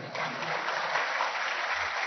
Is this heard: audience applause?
yes